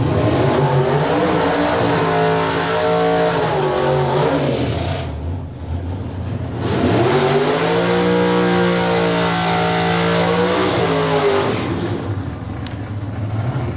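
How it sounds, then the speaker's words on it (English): Two British drag racing cars fitted with large American engines do burnouts at a drag strip, engines roaring loud and close with rising and falling revs in two long surges and a brief dip between them. "So completing the burnouts under the tower, 2 British cars, both fitted with large American engines."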